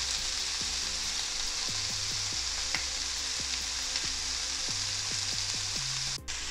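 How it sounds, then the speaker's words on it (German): Corned beef and onions fry in a pan with a steady, close crackling sizzle, broken by a series of soft thuds and scrapes as the mixture is stirred. "Das Corned Beef mit zu den Zwiebeln geben und etwas anbraten"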